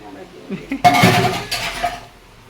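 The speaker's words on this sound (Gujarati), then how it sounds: "મમ્મી કામ લાગી ગયા, વાસણ કરે છે" Pots, pans and utensils clink and clatter during dishwashing in a home kitchen, a burst of loud metallic rattling and scraping with voices talking alongside.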